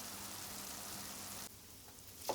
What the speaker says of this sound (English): I'm frying it up until it's nice and golden brown